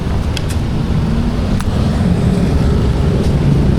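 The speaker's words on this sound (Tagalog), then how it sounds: "paparada ang motor" A motorcycle being parked near a Jollibee restaurant, its engine giving a steady, loud, close rumbling drone throughout, with no talking over it.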